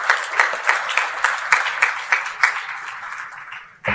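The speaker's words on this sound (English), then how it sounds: "You can applaud now." An audience at a panel session applauds with steady, dense clapping that holds for about four seconds, then dips briefly before a fresh burst at the end.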